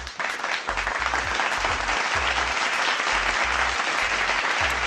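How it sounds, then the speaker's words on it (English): A crowd applauds with steady, dense hand clapping, loud and continuous, alongside a rhythmic low thumping beat. "Give him a hand clap."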